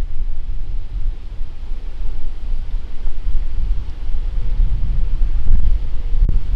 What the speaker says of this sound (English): That feels like the wind is blowing hard.